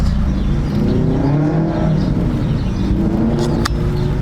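A car engine, just filled with E85 ethanol fuel, runs with a loud, steady low rumble and a slight rise in revs, close by with no talking.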